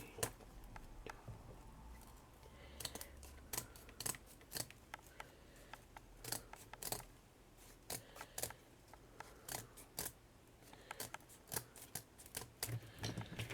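Scissors snip through paper matting for a dinner-plate trinket box in a run of sharp, irregular close cuts, quiet, with rustling between snips.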